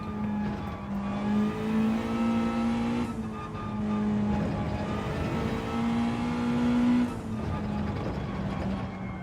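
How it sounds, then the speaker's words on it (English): A Group 1 race car in Gran Turismo 7 drones with a strong, steady engine tone that climbs and then drops at gear changes around two points in the run, loud and close, with no talking. "I'm driving in the Group 1 car"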